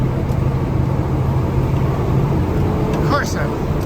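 A fully loaded commercial truck spins and digs its wheels in snow off-road, a steady low engine-and-tire rumble running unbroken throughout, with a voice speaking over it.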